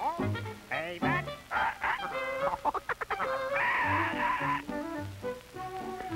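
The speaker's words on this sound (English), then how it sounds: "Even my mundane chores are disrupted by a jealous macaw who loves Dave and hates me." A macaw squawks and chatters in a rapid series of harsh, loud calls, some drawn out and some clipped, continuing close and unbroken throughout.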